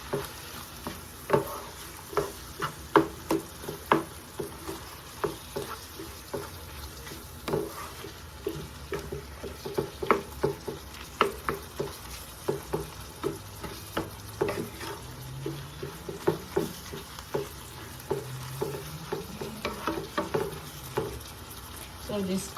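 A spoon stirs Ragù Bolognese seasoned with chili pepper and salt in a pan, giving repeated scraping strokes over a soft, steady sizzle, with no one talking.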